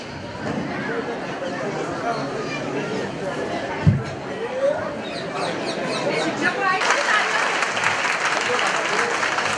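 A village primary school crowd claps steadily at a Republic Day function, the applause swelling louder toward the end, with background chatter and a single sharp knock partway through.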